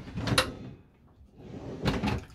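Cheap drawers in a Hymer BML i880 luxury motorhome slide and knock shut twice, two short clattering bursts close by about a second and a half apart, with a quiet pause between them.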